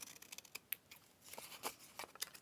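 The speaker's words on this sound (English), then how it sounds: "Take the scissors and I'll just snip off the corners" Scissors snip off the corners of paper during junk journal crafting, giving a handful of short, quiet, crisp cuts in an irregular rhythm, close to the microphone with no talking.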